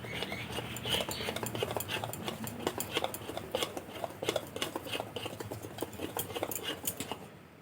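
A spoon stirs cake batter with baking soda and milk in a bowl, producing quick rhythmic clinks and soft wet swishing, close and continuous.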